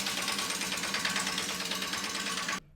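Steady, dense whirring buzz of a power tool tightening a lug nut on a car wheel, loud and continuous for over two seconds before cutting off abruptly, with no talk over it.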